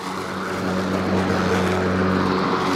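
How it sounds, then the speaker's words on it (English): A lawnmower engine drones at a moderate distance, a small motor running continuously with an even buzzing tone and no talking. "Putting that lawnmower to work."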